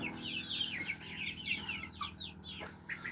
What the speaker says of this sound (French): Il y a du croisement de Favrol, de Cougnu, de poule pondeuse, de crème Legbar, de Sussex aussi.